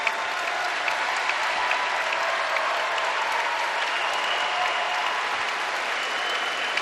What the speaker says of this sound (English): Big Blue Nation giving a nice round of applause for the group